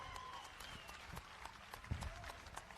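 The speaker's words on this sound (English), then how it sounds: "Let's give a big round of applause for Mark Tremberth" A crowd applauds a Hall of Fame inductee at an induction ceremony, with steady, fairly faint clapping throughout.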